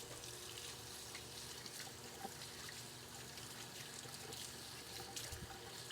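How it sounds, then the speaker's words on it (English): Hands are washed under a running tap after mixing fresh-milled bread dough. A faint, steady trickle and splash of water continues throughout with no talk. "I'll wash my hands."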